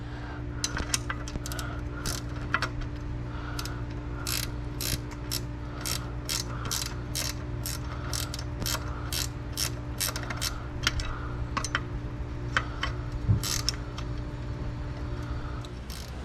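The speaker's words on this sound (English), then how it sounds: "Now I can go ahead and tighten it down, make sure everything's legit, nice and tight." A ratchet wrench tightening the lower unit bolts on a Yamaha F350 outboard, a steady run of close, crisp clicks in an even rhythm over a quiet mechanical hum.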